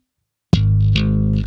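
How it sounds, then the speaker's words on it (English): An electric bass played with double-thumb technique, plucked with the thumb in quick down-up strokes, a few rapid notes ringing out through a chorus-like distortion effect, loud and clear. "It's like an alternate pick or alternate picking with guitar, but you're going to do this with your thumb."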